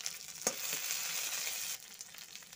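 Onion, garlic paste and chopped tomato frying in hot oil for a yam curry produce a loud, close, hissing sizzle that holds steady, then drops off sharply near the end with a few faint crackles after.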